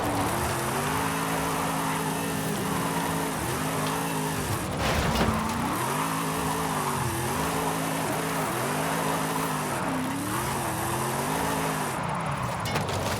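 Exorcist car in Forza Horizon 5 with its rear end sliding out, the engine note rising and dipping through repeated revs over a continuous loud tire squeal and skid, alone without speech.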